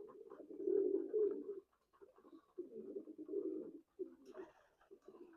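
Young racing pigeons give soft, low, rolling coos in several repeated bouts, close by and fairly quiet, with a brief higher call near the end.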